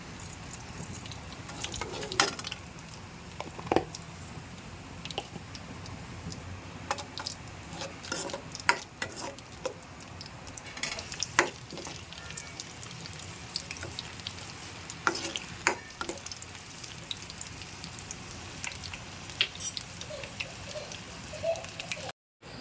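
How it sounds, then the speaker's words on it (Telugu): Cumin seeds crackle and sizzle in hot oil during tempering for a bitter gourd fry, a steady close frying hiss with scattered sharp pops and light clinks of a utensil, continuous with no speech. "ఆయిల్ అయితే పెట్టేశాను అయితే జీలకర్ర వేసేసుకుంటున్నాను"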